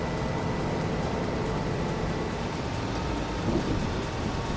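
Steady heavy rain with rumbling thunder in the farming game Farming Simulator 25, a dense constant roar of downpour close by, with a low rolling swell of thunder partway through and no voices.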